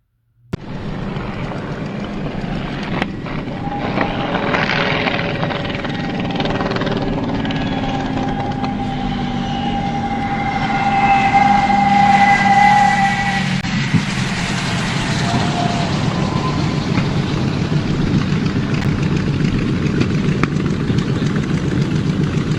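A P-51 Mustang piston-engine warplane comes in on a landing that nearly ends in a crash, its loud steady engine drone swelling to a peak partway through and then holding on, with no one speaking.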